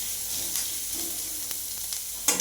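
Onion, garlic, cumin and turmeric sautéing in a pan give a steady hissing sizzle with a few soft pops and a louder crackle near the end, close by and with no talking.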